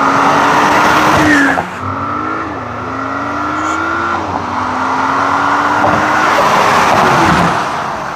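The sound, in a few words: Porsche Cayenne accelerating hard from a launch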